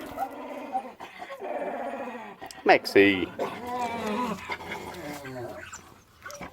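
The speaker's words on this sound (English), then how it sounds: "Oh, the dog's going a bit silly." A dog growls and whimpers close by in an outdoor bonsai carving area, with short yelps and whines. Someone talks over the sounds.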